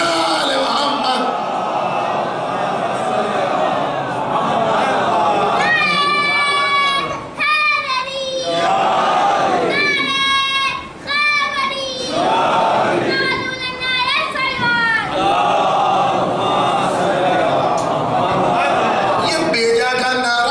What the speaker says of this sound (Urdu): صلوات بھیجیے محمد آل محمد